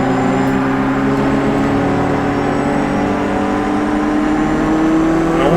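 A race car in Project Cars 2 revs loud and close, its engine holding a steady high drone that climbs and dips slightly as the throttle is fed gently through a corner.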